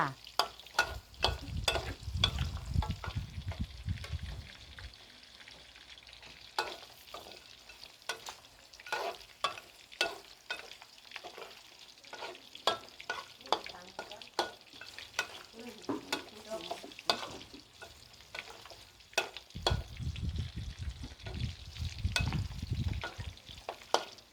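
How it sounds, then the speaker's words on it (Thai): Pork spare ribs fry in a pan with a steady close sizzle, broken by frequent clacks and scrapes of stirring; deeper rumbling bursts come at the start and end, and nobody speaks. "กำลังอัดคลิปทอดกระดูกซี่โครงหมูอยู่นะคะ"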